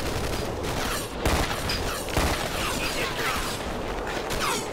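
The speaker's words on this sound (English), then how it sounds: "Wait, somebody else is shooting." Dense gunfire in a shooter video game, rapid overlapping shots and bursts that run loud and steady throughout.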